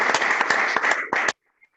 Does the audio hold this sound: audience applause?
yes